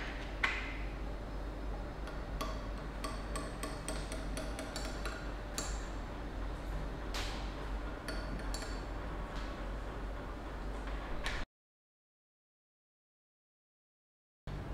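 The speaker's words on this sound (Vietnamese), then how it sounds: "Khuấy nhẹ." Spoon clinks and ticks lightly against a glass cup while stirring hot passion fruit grape tea, a steady run of small irregular taps over low background hum for about eleven seconds, then silence.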